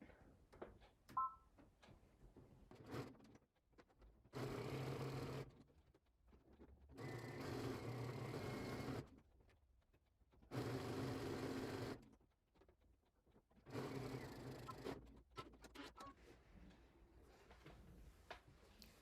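A sewing machine stitches a quarter-inch seam at a 2.0 stitch length while making bias binding. Several separate bursts of close, steady motor whirring come between quiet handling pauses.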